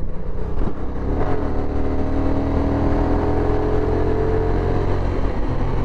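Honda NT1100 motorcycle at about 70 mph, accelerating to overtake after an automatic downshift from sixth to fifth gear, a steady engine drone with a rising whine under heavy wind rush, recorded close from the rider's position.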